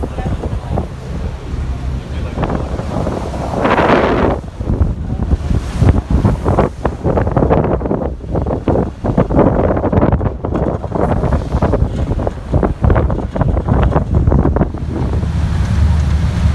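Steady wind rushes across the microphone with water sloshing beneath, a continuous loud roar typical of riding on an open boat to Cumberland Island.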